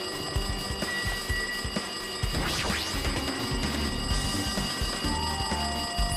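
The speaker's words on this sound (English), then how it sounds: "Looks like the phone is ringing." A telephone rings insistently in the Danganronpa 2 video game, a steady electronic ringing and chiming that repeats over a busy, cluttered game soundtrack throughout, with no speech.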